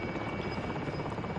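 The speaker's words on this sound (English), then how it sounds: "these extraction helicopters are everywhere right now" Extraction helicopter in the Call of Duty: Warzone battle royale game, a steady dense rotor drone filling the whole stretch at moderate loudness with no talk over it.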